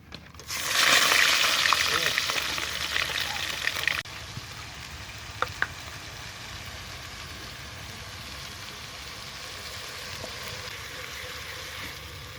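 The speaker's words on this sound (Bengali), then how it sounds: "এর মধ্যে এবার পেঁয়াজ দিয়ে দিচ্ছি" Onions go into hot oil already spiced with cinnamon, cloves and cardamom for goat head curry, bursting into a loud hissing sizzle that drops after a few seconds to a steady, quieter fry with occasional pops.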